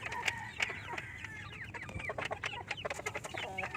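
A hen clucks near its nest in a close series of short, uneven calls over a steady low background, with no talking.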